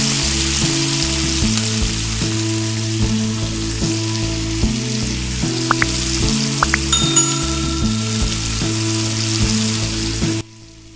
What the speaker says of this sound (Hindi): प्याज फ्राई होने के बाद जो धुला हुआ गोश्त था वो डाल देंगे, और इसको 1 मिनट तक फ्राई करेंगे।